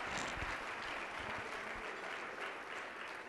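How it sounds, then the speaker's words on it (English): Applause from an audience at a university green education celebration, a steady dense wash of clapping that fills the whole stretch without letup. "Let's give him a round of applause every time we call on him."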